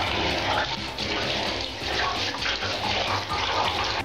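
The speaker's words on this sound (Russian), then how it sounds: "Чистим щеткой в ванной с теплой водой." Steady splashing and sloshing of warm water in a bathtub as keyboard parts are scrubbed with a brush, with a continuous running-water wash and occasional scrubbing movements, close and fairly loud.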